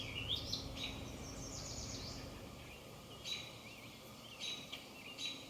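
Birds sing outdoors in a shaded spot, with thin high chirps and short whistled phrases coming and going against a soft, faint background of wind.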